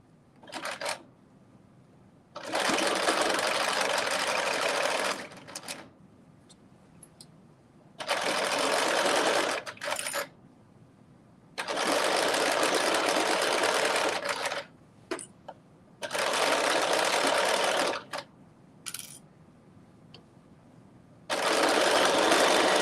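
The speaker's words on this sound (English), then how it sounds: "My sewing machine is talking to me like, you need to clean me out." A sewing machine in need of cleaning stitches a dress in bursts of rapid stitching, several separate runs of a few seconds each with quiet pauses between, close and fairly loud.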